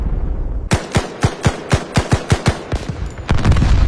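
A loud, rapid burst of machine gun fire from helicopter gunships over jungle, roughly ten evenly spaced shots in quick succession, trailing off into a rumbling echo.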